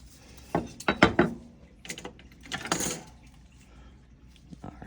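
Small metallic clicks and rattles of a hex key turning a Loctite-coated hex head screw into an AR-15 lower receiver, a few close bursts with short pauses between them.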